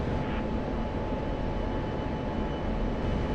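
An F-16 jet rolls for takeoff in the DCS flight simulator without afterburner, a steady, loud, broadband engine roar and rumble that holds constant throughout.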